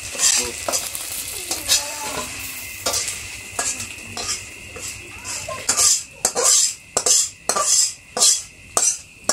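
Fish frying in oil in a village kitchen, a continuous sizzle broken by repeated rhythmic scrapes and clinks of a utensil stirring against the pan, close and loud.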